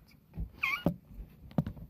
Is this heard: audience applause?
no